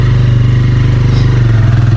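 Motorcycle engine thumping steadily on an off-road trail up to Murari Devi Temple, a loud, close, even low throb that holds throughout without speech.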